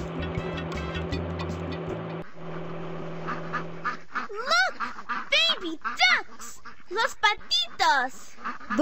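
Cartoon baby ducks quack in a Dora the Explorer video game, a run of short, bright, chirpy calls in the second half that follow a stretch of busy game music and effects.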